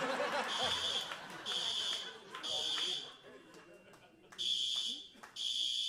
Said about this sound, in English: there's no fire. It's a heat alarm